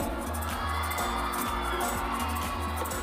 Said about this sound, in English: Can we have a big round of applause, everybody?